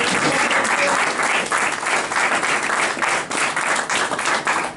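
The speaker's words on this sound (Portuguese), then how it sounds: "E pode aplaudir o Senhor Jesus." Church congregation applauding during a Portuguese-language worship service, a full room of close, dense clapping that swells and dips slightly while continuing throughout.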